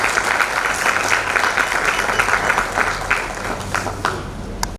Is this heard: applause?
yes